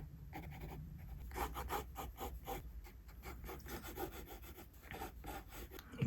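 A pencil sketches hair strands on paper with soft, quick, scratchy strokes, close and faint, repeated in an uneven rhythm throughout.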